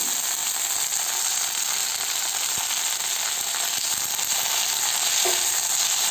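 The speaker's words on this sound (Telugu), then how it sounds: "కొద్దిగా లైట్గా ఫ్రై చేసిన తర్వాత" A pan gives off a steady, soft frying hiss with a few faint ticks and clicks, constant from start to finish, as ingredients for broken wheat pulao are lightly fried.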